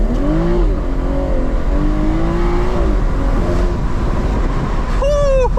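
A Stage 1 BMW M240i in sport mode revs hard through its gears while pulling from 0 to 60. The engine note climbs, drops at each shift, then climbs again. It sounds loud and close from inside the cabin.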